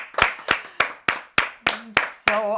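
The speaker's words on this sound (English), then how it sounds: "She's also clapping." Hands clap in a steady series of about eight sharp, loud claps roughly a third of a second apart, close by, with a voice breaking in near the end.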